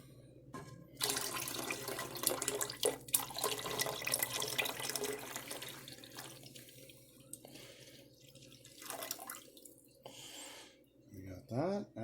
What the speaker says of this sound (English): Now we add the beef broth.